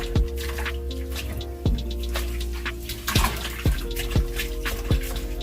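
Water splashes and squishes as a curly headband wig is washed and rinsed, with steady running water and repeated wet sloshing bursts close by.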